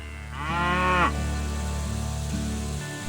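A cow on a cattle farm in the train-management game Railway Empire 2 lets out a single loud, drawn-out moo over a low, steady ambient hum.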